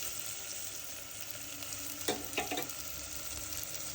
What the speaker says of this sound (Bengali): পেঁয়াজ রসুনগুলো ভালো করে একটু নেড়ে নিব।